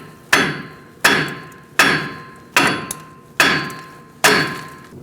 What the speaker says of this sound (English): Now we're going to hit right here, and we're going to get that lower ball joint out of the knuckle.